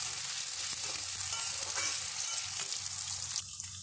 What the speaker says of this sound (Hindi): इसी में हम आलू फ्राई कर लेंगे अपने